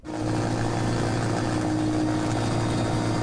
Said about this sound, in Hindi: दरभंगा की ये तस्वीरें हैं जहां पर फूड पैकेट्स वायुसेना के हेलीकॉप्टर के जरिए गिराए जा रहे हैं।